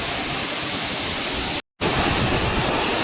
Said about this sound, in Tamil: ஆகாய கங்கை ஃபால்ஸ் பார்க்குறீங்க.